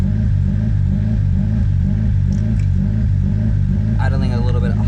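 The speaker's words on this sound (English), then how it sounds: "Idling a little bit high right now." A Honda EK hatchback's engine idles a little high with a slight idle surge, a loud, close, steady low rumble with a pulsing throb, and a voice briefly speaks over it near the end.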